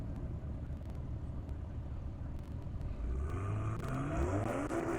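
A Toyota Supra at an airstrip drag race revs loudly, its engine note climbing and swelling over steady outdoor rumble in the second half, close by and without speech.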